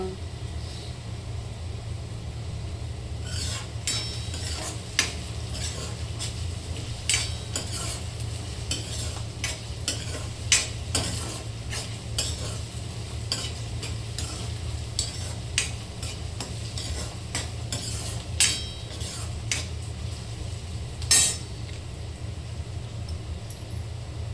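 Onions frying in a pan until brown, stirred with a utensil: repeated close scraping and clinking strokes at an uneven pace over a soft, steady sizzle and a low constant hum.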